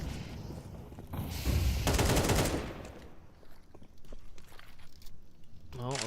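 Rapid automatic gunfire bursts in a Counter-Strike match, a dense roaring volley in the first half giving way to scattered lighter shots and footsteps, with a voice briefly heard at the end.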